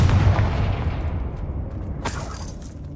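Confringo fire spell explosion in Hogwarts Legacy on PC, a deep booming blast with rumbling decay, followed by a sharp crackling burst near the end.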